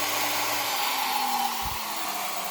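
A CNC router spindle spins at 18,000 RPM, giving a loud, steady high-pitched whine and airy rush that holds constant from start to finish, with no voices.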